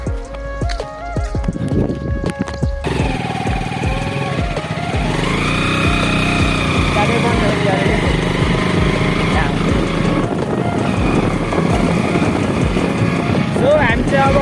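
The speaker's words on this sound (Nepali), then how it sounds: "हामी चाहिँ अब बाइक चलाइ हिँड्दैछौँ" A motorbike engine runs while the bike is being ridden, its pitch rising and then holding steady, with a rough, rattly drone and a buffeting, noisy start.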